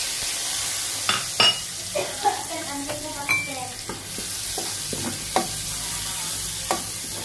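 Chopped onions sautéed in a pan for a simple tofu and mushroom soup, with a soft steady sizzle and occasional sharp clinks of a utensil stirring against the pan.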